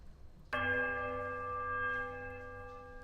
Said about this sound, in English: The clapper strikes a low, powerful note against the heavy iron.